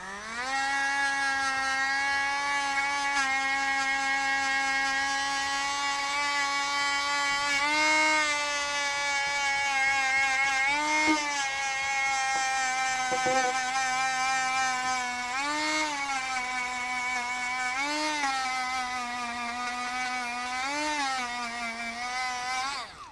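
A Dremel Stylus rotary tool spins a felt polishing pad, giving a steady high-pitched motor whine that holds for the whole stretch and dips slightly in pitch now and then as the pad loads against beeswax, close and continuous.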